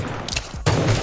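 Rapid bursts of gunfire in the mobile battle-royale game Rules of Survival, loud and close, ending in a dense volley under game noise.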